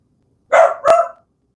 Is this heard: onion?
no